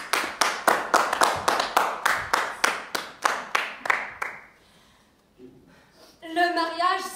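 An audience applauds to welcome a speaker onto the stage, a dense, steady burst of clapping that lasts about four seconds and then fades, followed by a quiet pause and a brief voice and tonal sound at the end.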